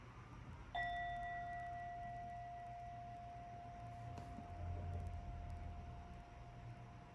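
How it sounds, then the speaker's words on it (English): A meditation bell is struck once, gently, giving a clear ringing tone that hangs and slowly fades over a quiet room hush, with no talking. "I'm gonna ring the bell,"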